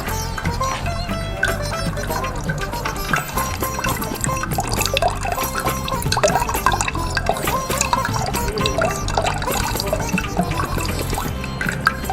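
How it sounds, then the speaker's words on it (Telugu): Tamarind juice for Ugadi pachadi is strained through a sieve, giving a steady, dense wet trickle and dribble of liquid that stays close and continuous throughout, with no voices. "చిన్నగా ఏమన్నా దీంతో వడబోసుకుంటే మంచిగా మనకు నీట్గా వచ్చేస్తుంది చింతపండు రసం కూడా."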